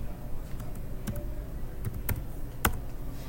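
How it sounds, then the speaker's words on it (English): Computer keyboard keys tapped at a moderate pace while entering a calculation, a few scattered crisp clicks close to the microphone over faint background hiss, no speech. "I'm just going to type it in."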